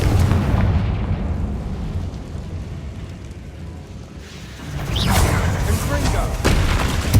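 The Confringo blasting spell in Hogwarts Legacy sets off heavy, rumbling explosions, with a loud blast at the start and another burst partway through, each trailing into a rolling boom.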